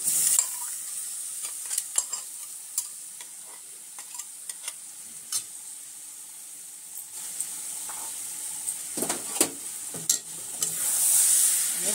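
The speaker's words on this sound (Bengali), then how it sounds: "এবার আমি সয়াবিনগুলো এতে এবার ঢেলে দেবো, দিয়ে একটু কষিয়ে নেব।" Soybean chunks sautéed in a spiced pan, a continuous close sizzle broken by repeated scraping strokes of a spatula stirring them, with a louder burst of hiss near the end.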